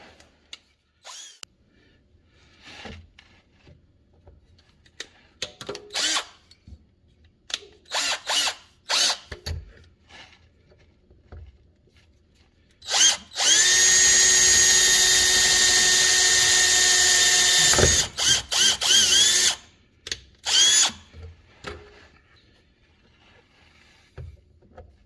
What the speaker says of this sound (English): And then we'll drill the other one